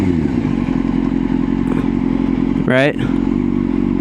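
A motorcycle engine runs steadily up close while the rider works the front and rear brakes, and a short squealing skid rises near the end; a voice speaks one brief word.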